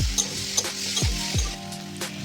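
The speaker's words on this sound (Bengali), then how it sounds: "আমি এগুলো একটু নাড়াঘাটা করে নেব, কারণ ফুলকপিটাকে ভালো করে মশলার সাইজে ভেজে নেব।" Cauliflower fries in a pan with ground cumin and other spices, giving a close, steady sizzle. Several scraping strokes of a spatula stir it at a quick, uneven rhythm.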